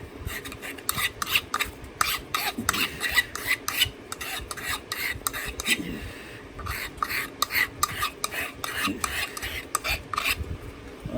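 Hand sharpening of a tool tip while making a pine tree, a steady run of short rasping strokes repeated in quick rhythm, close and moderately loud, with no talking.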